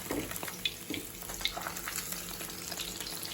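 Fish pieces fry in oil and are turned, a quiet bubbling sizzle with a few light clicks from the turning, close and without talk.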